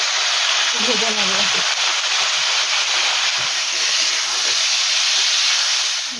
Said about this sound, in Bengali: এঁচুড়গুলো যতক্ষণ ভাজা হচ্ছে